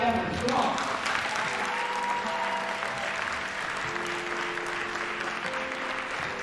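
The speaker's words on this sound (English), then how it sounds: "A very warm round of applause to Sally Evans" An audience at a counter-extremism fundraising event gives warm, sustained applause for Sally Evans, a broad wash of clapping that holds steady and slowly eases, with faint tonal sounds beneath.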